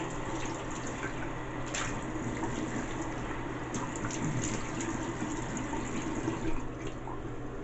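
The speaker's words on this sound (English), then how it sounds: "I'm just going to wash my face a little bit" Tap water runs steadily into a sink while a face is washed, a constant moderate splashing flow with a few brief louder splashes and no voices.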